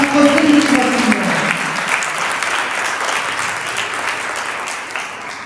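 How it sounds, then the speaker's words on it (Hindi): A congregation at a church gathering breaks into loud, sustained applause, many hands clapping together and slowly tapering off, with a voice briefly heard at the start. "उसके लिए जोरदार ताली है जिसने आपको जिंदगी बख्शी है"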